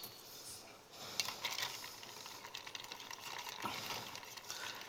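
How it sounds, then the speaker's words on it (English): A lime cocktail getting a quick stir, soft rattling and clinking of ice in a glass, fairly quiet, with scattered brighter taps through the middle. "And we give it a quick stir."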